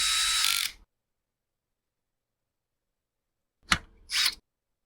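Screws being tightened on a Husqvarna 572XPG chainsaw cover near the cylinder: a longer ratcheting burst at the start, then a gap of silence and two short close clicking bursts near the end, with no talk.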